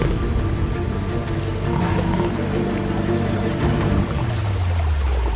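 A jaguar in the Amazon lets out a loud roar along with the steady rush and pour of nearby water, ending in a falling growl.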